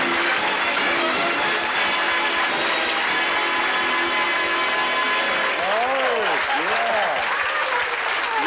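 Studio audience on a 1978 game show applauding and cheering in a dense, steady clapping wash, with a host talking over it and a warbling tone near the end.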